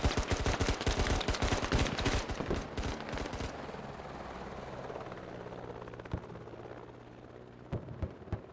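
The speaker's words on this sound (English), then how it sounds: "Helicopter offering a little bit of air support." Helicopter rotor thump with bursts of rapid gunfire in the military shooter Squad, set in urban Fallujah; dense, loud automatic fire for the first few seconds, then a steady rotor drone with a few isolated shots near the end.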